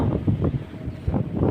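Gusty wind buffeting a microphone outdoors in the countryside, low rumbling bursts rising and falling over a short stretch.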